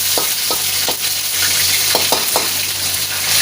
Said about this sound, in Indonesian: Ini kita goreng-gorengkan dulu.